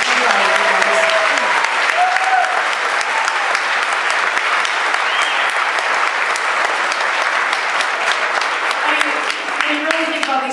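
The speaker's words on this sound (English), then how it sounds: "Can we please give all these kids a round of applause?" An audience at a high school band concert gives the student musicians a long, loud, sustained round of applause, dense and even throughout, with a voice speaking faintly at the start and end.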